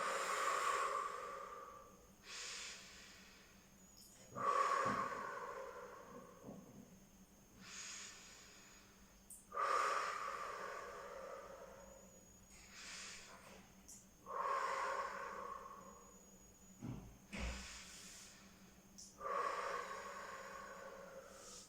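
Slow, deliberate breaths in and out during a core stability exercise, close and fairly quiet, repeating in an even rhythm of breathy huffs roughly every two to three seconds.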